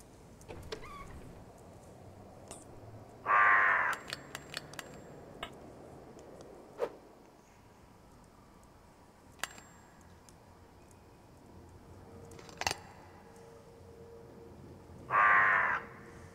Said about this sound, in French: nous sommes accueillis par le corbeau